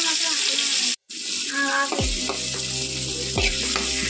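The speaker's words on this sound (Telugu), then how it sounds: "ఇప్పుడు టమాటాలు కూడా వేస్తున్నాం. చూడండి, అదే నూనెలో 2 పచ్చిమిరకాయలు, అవి కూడా కొంచెం మగ్గేదాకా." Tomatoes and green chillies sizzle in hot oil in a pan, a steady frying hiss after a brief pause, with a few sharp clinks of a spoon against the pan midway.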